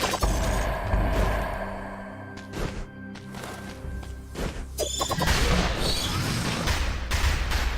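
Explosions and combat impacts in the video game Dead Cells, a run of sharp crashing bursts and thuds with game music tones underneath, loud and irregular.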